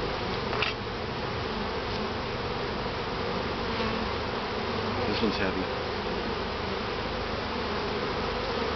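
Honey bees from a top bar hive swarm over a comb during a honey harvest, making a dense, steady buzz close to the listener throughout. A brief remark is spoken quietly over the buzzing.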